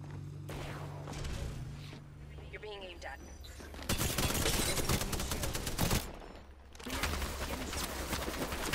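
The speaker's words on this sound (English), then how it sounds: "Holy crap, they're shooting down from somewhere." Apex Legends gunfire in a battle royale fight, with bursts of automatic fire and loud sharp shots in rapid clusters, a dense barrage in the second half broken by brief pauses, up close and loud.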